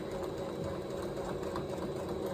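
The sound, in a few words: sewing machine top-stitching the upper edge of a fabric basket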